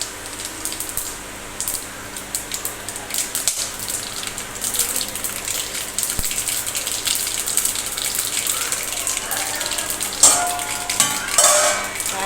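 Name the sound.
mustard seeds, cumin and pepper sizzling in hot oil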